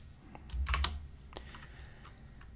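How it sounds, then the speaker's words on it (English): Computer keyboard keys tapped in quick bursts while coding, close and fairly quiet, with a short cluster of louder clicks and a few scattered strokes. "Notice I'm using my tab completion to speed up typing and to explore the available functionality."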